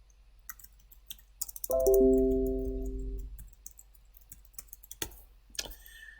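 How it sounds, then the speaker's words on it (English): A computer mouse clicks and keys tap sparsely while a Teams meeting is set up, with scattered close clicks and a brief sustained electronic tone early on. "click on this video camera icon and type in the subject"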